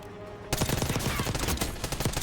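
MP5 submachine gun firing in Call of Duty Warzone with Black Ops 6 weapons, a near, loud, rapid automatic burst that starts suddenly after brief quiet and rattles on without pause.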